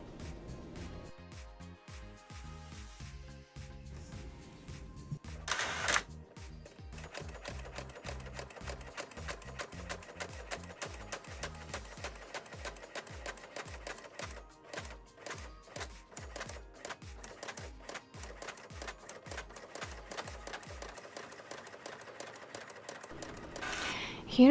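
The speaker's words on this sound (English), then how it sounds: "Hit the print button." An inkjet printer prints dragonfly wings onto transparent plastic film, with a steady run of rapid mechanical clatter and shuttling bursts from the print head and feed that goes on for over twenty seconds.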